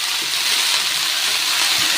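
Mustard greens fry in hot oil with garlic and green chilli, a loud, even, close-up hiss of sizzling with faint soft stirring underneath.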